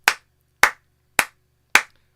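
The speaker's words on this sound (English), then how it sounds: "Can we just clap?" Four single hand claps ring out at an even, slow pace about half a second apart, sharp and close against a quiet background during a live toy-collectibles show.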